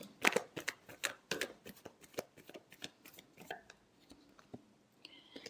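Tarot cards being shuffled by hand in a quiet room, a run of crisp riffling bursts and soft flicks close up, fading to lighter taps toward the end.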